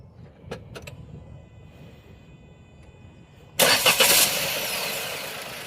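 A Maruti Suzuki S-Presso's small petrol engine cranks and catches abruptly after a few quiet clicks, then settles into a loud, steady running hum close by.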